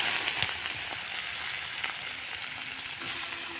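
Khesari greens frying in a pan with slit green chillies, a dense steady hiss with faint scattered pops, close and continuous throughout.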